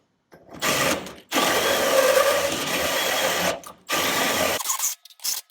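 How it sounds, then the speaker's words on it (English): Drill boring out a part on a 1979 Honda XR80 motorcycle, three close, loud whirring bursts of a few seconds each, separated by brief silences, with short blips at the end. "think we can drill this baby out some more"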